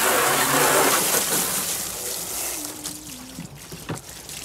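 Water splashes and trickles inside a plastic cooler being rinsed out after a light bleach and soap cleaning, a broad hissing rush at first that thins to uneven drips and sloshes, close by.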